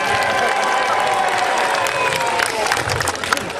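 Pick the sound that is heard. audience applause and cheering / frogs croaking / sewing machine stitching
audience applause and cheering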